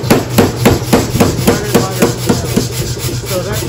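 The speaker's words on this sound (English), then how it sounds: "I'm going to hammer this down" A steel bar is hammered at a blacksmith's anvil with a steady rhythm of about four loud, close strikes per second, and no talking.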